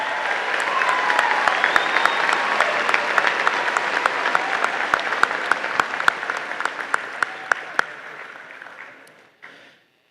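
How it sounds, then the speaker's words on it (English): Graduation audience at a Whitman Hanson High School ceremony applauds the class of 1969 in a long, loud wash of crowd clapping with sharp individual claps standing out, tapering off near the end. "join me in one last round of applause for our class of 1969"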